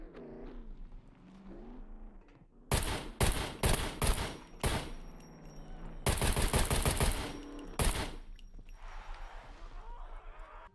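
Gunshots in the survival game SCUM fire at a player's car driving through a town, loud sharp shots in quick spaced volleys and one longer rapid burst, between quieter stretches of faint engine noise and talk.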